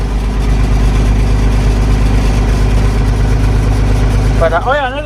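An International Harvester 1586 diesel tractor engine idles after a cold start with a steady low rumble, close and loud, and a brief warbling tone rises near the end.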